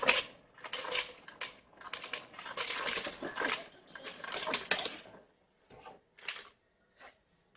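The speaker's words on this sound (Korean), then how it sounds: "여기에 텀블러를 놓아둔 상태에서 여기 얼음 버튼을" An ice maker drops ice cubes into a tumbler, a rapid series of clattering, rattling impacts that thin out into a few scattered clinks before stopping.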